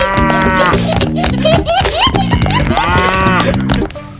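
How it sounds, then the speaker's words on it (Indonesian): A toy farm animal cow lowing in repeated harmonic moos layered over music, loud and close, with a few bleat-like calls mixed in. "Wih, ada sapi."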